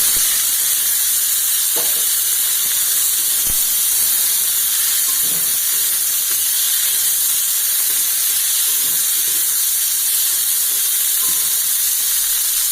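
Star fruit pieces hit hot oil with a bay leaf in a home kitchen, giving a steady loud sizzle and hiss throughout, with a few faint clinks of stirring and no talk.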